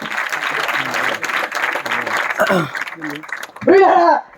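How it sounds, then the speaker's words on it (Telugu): A crowd at a thanksgiving prayer gathering in Munagapadu claps loudly in a dense burst of applause, which fades after a couple of seconds as voices take over. "గట్టిగా చప్పట్లు కొట్టి దేవుని సేవకులు ఆహ్వానిద్దాం."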